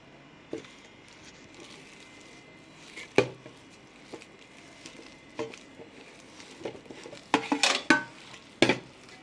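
Sabudana vada dough being mixed with rajgira flour in a bowl, soft scattered scrapes and a few sharp knocks of a utensil against the dish, irregular and fairly faint, with no talking.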